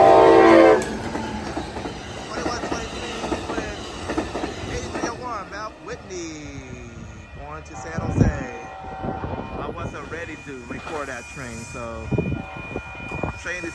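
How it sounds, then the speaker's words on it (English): An Amtrak Capitol Corridor passenger train passes by at 98th Avenue in Oakland, California, and picks up speed. A loud horn blast opens the clip, followed by a continuous rolling rumble and wheel clatter, while someone speaks over it. "Train is speeding up to San Jose."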